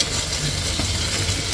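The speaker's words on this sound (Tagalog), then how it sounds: "Haluin natin guys hanggang maluto yung ating karne" Meat stir-frying with green and red peppers in a pan, a steady close sizzle with faint scraping from stirring, continuous and fairly loud with no talk.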